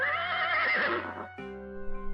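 An Arabian horse gives a loud, close whinny lasting over a second, falling into a rough, breathy tail, followed by a steady tonal hum in the background with no talking.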